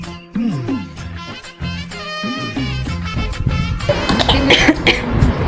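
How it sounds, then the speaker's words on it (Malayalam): A person coughs hard and repeatedly nearby, the fit breaking into rough, rasping bursts that build toward the end. "എന്തോ പറ്റി ചുമക്കുന്ന? പനിയാന്നോ?"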